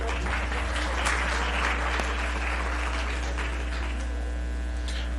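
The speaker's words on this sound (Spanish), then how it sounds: "Aplausos también para él, por favor." Steady applause from a seated audience at a Spanish-language nutrition and disease conference, broad and continuous clapping for about five seconds with a low mains hum underneath and no speech.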